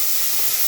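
Onion and small tomatoes tempering in hot oil for a radish and mutton curry give a steady, loud, close sizzling hiss with no break, alone without talk.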